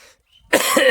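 A man with a sore throat gives one sudden, loud cough after a brief silence, close to the listener, outdoors by a small pond while fishing with a new net.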